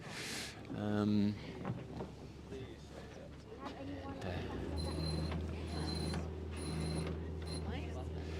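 Electric hydraulic winch drums on a racing yacht whir and grind with clicking, ratcheting bursts and a low mechanical hum, while people talk nearby.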